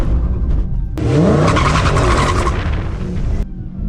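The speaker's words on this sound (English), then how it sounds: "Huge wheel hop. Surprised we didn't break anything." Dodge Demon 170 making a hard drag-strip launch from about 1,000 rpm, a loud engine roar with squealing tires and juddering wheel hop lasting about two and a half seconds, close by and without talk.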